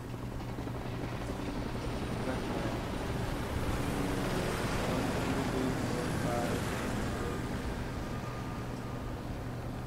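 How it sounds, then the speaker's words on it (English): Loud, continuous rotor noise from seven helicopters in the video game Call of Duty: Ghosts fills the scene, a dense steady roar with whooshing texture throughout. "Seven helicopters."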